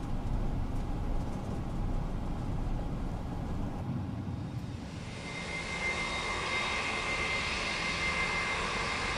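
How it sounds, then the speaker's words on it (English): Engines of an Airbus A321 in the FSLabs add-on for Microsoft Flight Simulator 2024 hum steadily while lined up on the runway, a broad rumble with a high whine that swells louder midway as thrust builds, with no talk. "The engine sounds are spectacular."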